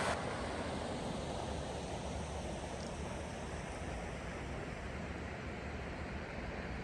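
Steady broadband rush of river water flowing at the edge of a side branch of the river in a state park, close and continuous, with wind noise and no talking.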